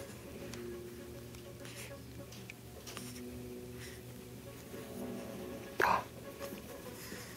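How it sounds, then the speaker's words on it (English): A small child hiccups, with a sharp, clear hiccup near the middle and softer catches around it, under a steady low household hum with faint background voices. "Little buddy has the hiccups."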